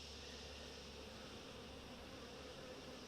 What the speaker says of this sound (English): these bees are still a little bit flighty